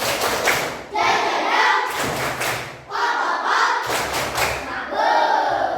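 Elementary school class doing a rhythmic thumbs clap together, bursts of thudding claps and shouted chant in several rounds, loud and close in a classroom.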